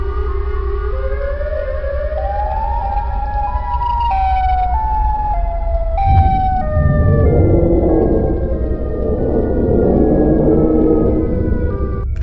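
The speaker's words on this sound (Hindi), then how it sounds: "तभी वहां पर सायरन हेड आ जाता है।" A cartoon monster's loud wailing siren cycles through rising and falling tones, sustained and close, with harsh overlapping layers joining midway.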